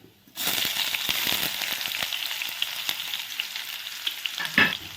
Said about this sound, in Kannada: ಚೆನ್ನಾಗಿ ಫ್ರೈ ಮಾಡಿ ಈರುಳ್ಳಿ ಬ್ರೌನ್ ಆಗಬೇಕು.